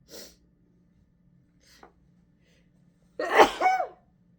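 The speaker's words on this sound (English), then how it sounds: "have a sneeze coming." A single loud, close sneeze bursts out after a couple of quiet breaths and near silence.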